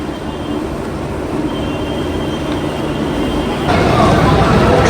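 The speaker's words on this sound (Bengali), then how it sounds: "ট্রেন দিয়ে দিয়েছে প্ল্যাটফর্মে," A train stands at a busy railway station platform, with a steady, loud rumble of engine and station noise. The rumble swells noticeably near the end, and a murmur of voices runs underneath.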